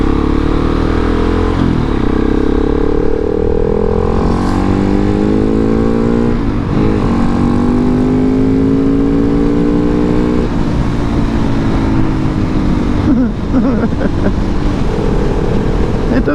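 A 2019 KTM 690 SMCR motorcycle pulls hard on the road, its single-cylinder engine rising in pitch through repeated gear shifts. It is loud and close, with steady wind rush throughout.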